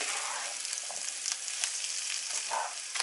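Six blood sausages fry with onion in a pan over low heat, giving a steady, close crackling sizzle with small pops throughout, and no talking.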